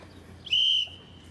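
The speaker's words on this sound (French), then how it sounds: "dès que le sifflet retentit, vous pourrez y aller" A single sharp, high whistle blast lasting about a third of a second, loud and close, over a low steady background hum, blown to start an event in Niederbronn-les-Bains.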